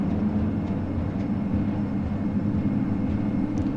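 Twin turboprop engines of a Q400 airliner at takeoff power in a flight simulator, a steady loud droning rumble with a low throbbing hum and no break.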